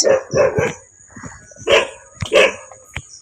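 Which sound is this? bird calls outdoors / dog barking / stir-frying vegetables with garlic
dog barking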